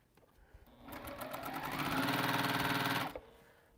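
A sewing machine stitches quilt fabric in one continuous run of about two seconds, its rapid needle chatter building in speed and loudness, then stopping sharply, close by with no talk.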